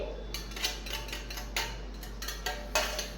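Kitchen utensils being washed up in an office kitchen, with repeated clinks and clatters of metal and dishes knocking together at an irregular pace, fairly close, over a steady low hum of running water or an appliance.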